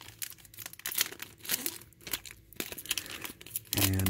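Foil wrapper of a four-card 2016 Topps Wacky Packages MLB pack crinkling and tearing open close up, a run of sharp crackles and rips that ends in a denser crunch.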